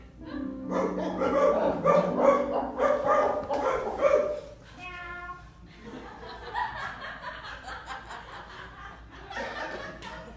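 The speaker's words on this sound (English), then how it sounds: "we hear barking" Several dogs barking in quick bursts, fairly loud and near, mixed with chuckling laughter, then quieter barks trail off toward the end.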